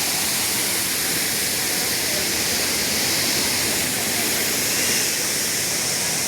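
Sanaghagra waterfall in the monsoon, a steady, loud roar of heavy falling water that holds evenly from start to finish with no break.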